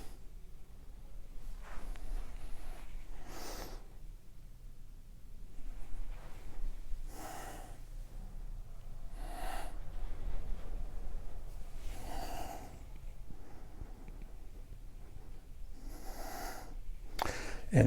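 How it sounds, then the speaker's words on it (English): Slow, soft yoga breaths recur every couple of seconds, gentle inhales and exhales over quiet room tone, with no talking. "Not a forceful breath at all."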